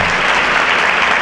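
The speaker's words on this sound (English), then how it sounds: "If you could give all of them a great round of applause for the great work that they" A conference audience at a state gathering on aging breaks into loud, sustained applause, a thick continuous wall of clapping that fills the room.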